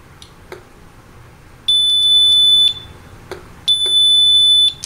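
A Geiger counter set to alarm at 320 counts per minute sounds its threshold alarm as two long, loud, piercing electronic tones of about a second each, separated by a pause, with faint scattered clicks before and between them.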